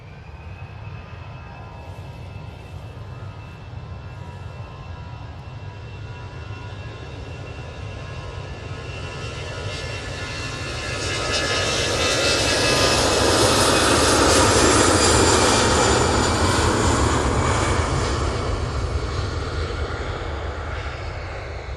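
easyJet airliner approaching at Manchester Airport, its jet engine roar swelling from a distant rumble to a loud, broad whine as it passes near, then easing slightly, with no talk.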